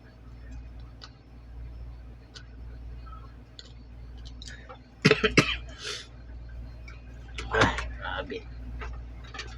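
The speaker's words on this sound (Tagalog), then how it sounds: "Grabe ubo ko. Ubo talaga ako." A person coughs twice in a close, sharp burst, then a second burst a couple of seconds later, over steady low hum and faint ticks while repairing an LG appliance with a CH10 error.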